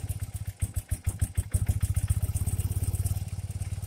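A carbureted motorcycle engine idles while warming up, close and loud, with a lumpy, uneven putter at first that settles into a fast, steady beat.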